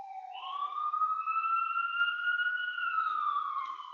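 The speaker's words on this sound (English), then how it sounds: "You may hear the sirens coming through my headphones." Sirens wail through headphones, a rising and falling tone that swells and holds steady over four seconds, moderately loud and alone without talk.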